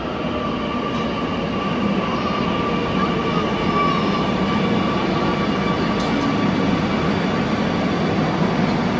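A Kochi metro rail train runs steadily throughout, a continuous close rumble of wheels and carriage with a faint high whine, with no pauses or talk.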